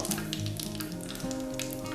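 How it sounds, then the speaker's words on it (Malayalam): Steady hot-oil sizzling with scattered sharp pops and crackles as a teaspoon of mustard seeds splutters in a pan, loud and continuous. "ഓയിൽ ചൂടായതിനു ശേഷം നമുക്കിതിലേക്ക് 1 ടീസ്പൂൺ കടുകിട്ട് ഒന്ന് പൊട്ടിച്ചെടുക്കാം."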